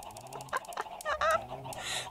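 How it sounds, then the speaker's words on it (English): Minecraft chickens cluck in a dense, overlapping flock, several short squawky calls layered close together and fairly loud, with no speech. "and so many chickens. They're so loud!"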